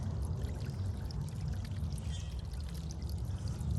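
A solar fountain pump, its nozzle removed, pushes out a steady stream of water that pours and splashes continuously and close by.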